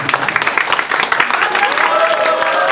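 A crowd at a campaign rally breaks into loud, dense applause that carries on steadily, with voices mixed into the clapping.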